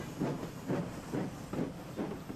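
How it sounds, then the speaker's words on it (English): A steam locomotive chuffs away with about five evenly spaced, hissing puffs of steam in a steady rhythm, close and moderately loud. "Emily whistled, and she steamed quickly away."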